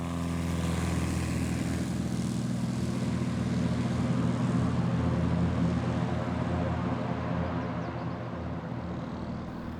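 A Cessna 182 propeller plane roars steadily through its takeoff run from Dogleg Gravel Bar in Washington State, a loud, continuous engine drone heard from outside the aircraft.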